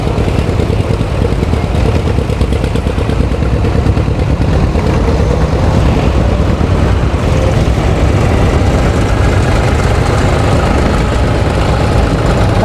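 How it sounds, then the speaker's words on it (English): John Deere 5103 tractor with a four-cylinder engine and straight muffler, idling at a steady, loud, continuous low rumble from close by with no talk. "That's the straight popular muffler on that particular one. Gives a little different sound."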